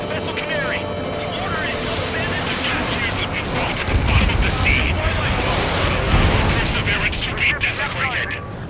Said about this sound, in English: It's using its main guns for anti-air